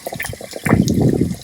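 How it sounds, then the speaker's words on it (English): Water rushes from an RV faucet opened while winterizing a Grand Design camper, a sudden loud gush that swells after a sputtering start and continues as a close, steady splashing flow. "You get a lot more water out."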